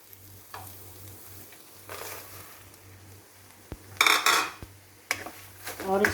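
Fox nuts are roasted in melted khoa in a pan, with soft sizzling and a few sharp spoon scrapes and clinks against the metal as they are stirred, under a low steady hum.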